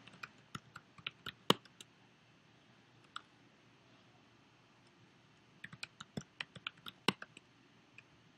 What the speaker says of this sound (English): as they start typing